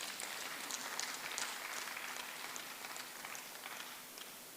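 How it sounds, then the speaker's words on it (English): Distant, faint applause for the President at a coastal highway stakeholders' meeting, a dense even patter of clapping that fades slightly toward the end. "Mr. President deserves another round of applause."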